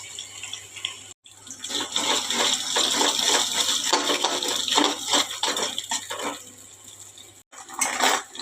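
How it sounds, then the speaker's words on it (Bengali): Two eggs frying in white oil in a pan with onion and green chilli, giving a steady close sizzle broken by short gaps and a few light metallic clinks, with no talking. "ডিমটাকে ভালো করে ভাজা ভাজা করে নিয়েছি"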